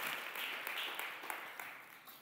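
Congregation at a church service clapping hands in praise, a dense, steady wash of applause from many hands throughout, moderately loud and without talk.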